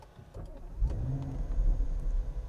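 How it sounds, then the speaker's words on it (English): A 2021 Audi SQ8, a 500 hp SUV coupe, fires up by remote start: a low engine rumble swells after a short crank and holds as a steady, throaty idle close by, with no talk. "that engine will constantly remind you every minute you start this car"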